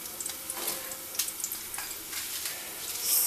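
Dry red chillies fry in hot oil for a spicy Telangana-style tomato chutney. A close, steady sizzle crackles with small bursts of popping throughout.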